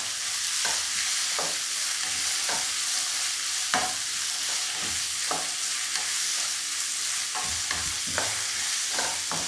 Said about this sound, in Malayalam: നമുക്ക് നല്ലതായിട്ടിത് വഴറ്റിയെടുക്കാം.